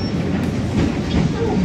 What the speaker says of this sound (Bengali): ওই যে ট্রাম চালাচ্ছে